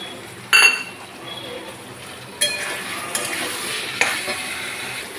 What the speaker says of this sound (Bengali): মশলা কষানো হয়েছে, এবার আলুটা দিয়ে দেবো, ভেজে রাখো।